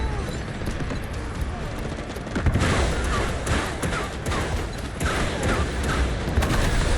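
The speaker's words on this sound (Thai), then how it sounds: "ยิงกันกระจุยกระจายเลยครับผม" Heavy gunfire in the shooter Delta Force, a dense run of sharp shots and booms layered over battle noise, loud and close, with a voice talking through it.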